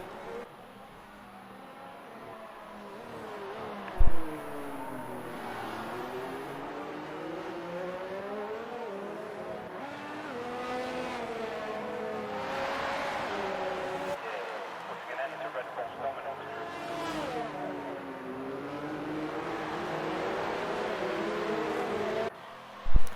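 F1 race cars in a video game, trailing the safety car around the Baku street circuit, produce a steady engine drone with rising and falling revs under continuous commentary.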